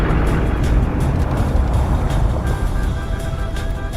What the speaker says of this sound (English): It's just a traffic jam.